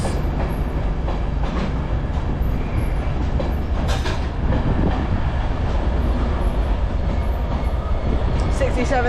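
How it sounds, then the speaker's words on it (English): An Avanti passenger train at Manchester Piccadilly station fills the platform with a steady, loud rumble and a rolling mechanical drone that continues without a break. "Okay, the Avanti ready to depart."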